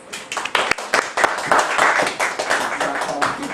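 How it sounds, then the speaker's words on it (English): An audience at a community forum on the housing crisis claps, starting with a few scattered hands and building into fuller applause, with voices mixed in. "So let's give them all a round of applause."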